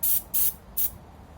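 Durablue coating sprayed onto a Savage/Fox Model B shotgun in light passes: three short, loud hissing bursts about a third of a second apart, each cutting off sharply into quiet.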